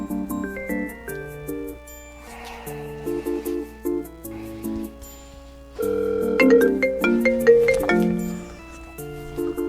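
A phone rings through an unanswered call, a melodic electronic ringtone cycling its tune steadily and fairly loud, with a brief noisy rustle between phrases.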